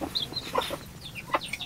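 Vietnamese crossbred hens cluck in short, soft bursts, a few quick calls rising over rural background noise. Nothing is said during them.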